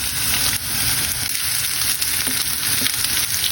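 Chopped onion, garlic and dried red chilies hit hot oil for a tempering in Bengali bottle gourd leaf cooking, giving a loud, continuous sizzle and crackle with occasional stirring scrapes and no talking.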